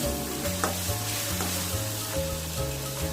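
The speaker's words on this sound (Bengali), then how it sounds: "তো আমি 2 থেকে 3 মিনিট নেড়ে চেড়ে ভেজে নিচ্ছি।" Red chili powder and green chilies frying and being stirred in a pan for a lau shaker jhol with small shrimp, a steady close sizzle with a spatula scraping over it and no talking.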